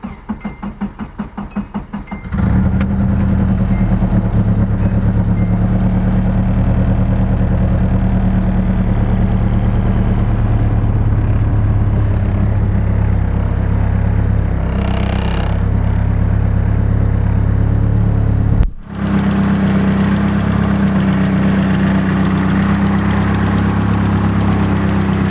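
A Nissan 240SX engine cranks with rapid rhythmic chugs, catches and roars to life, then settles into a loud, steady idle with a brief dip near the end.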